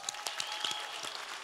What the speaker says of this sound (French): On s'applaudit, s'il vous plaît.